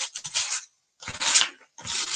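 A painted vintage wooden oval frame being distressed by hand, with three separated bursts of brisk back-and-forth rubbing strokes, close and fairly loud, broken by short silent pauses.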